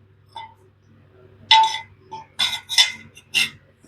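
Glass pane from a truck rim wood stove being handled and set down, giving several short, bright clinks and taps in an irregular series close by, with a few faint knocks before them.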